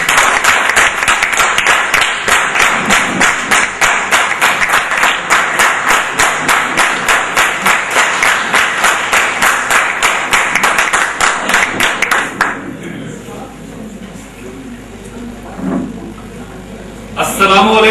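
An indoor audience applauds a speaker's introduction at a gathering: loud, dense rhythmic clapping fills most of the stretch before fading into murmuring room sound, then a brief burst at the end.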